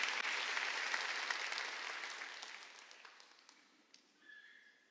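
A church congregation at a Sunday service applauds, a dense wash of many hands clapping that starts strong and gradually fades away over several seconds.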